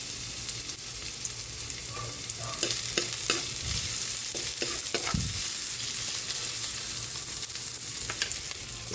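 Onion and garlic sautéing in a pan for Filipino ginisang munggo, mung bean stew, a continuous close sizzle with intermittent stirring scrapes and clatters, no voices.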